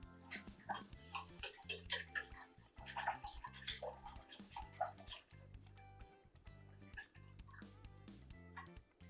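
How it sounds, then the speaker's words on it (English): A tiny whisk stirs water in a small container, making rapid clinking taps and light watery swishes in an irregular rhythm, close and clear. "I'm gonna give it a quick stir."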